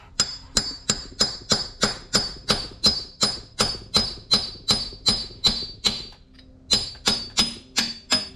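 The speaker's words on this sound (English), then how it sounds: "Go down here if you can have something to grip on and use your hammer." Steady hammer blows on a part during an automatic-to-manual conversion of a Ford Falcon EF, about twenty sharp metallic strikes in an even rapid rhythm with a brief pause near the end, close and ringing, no talking.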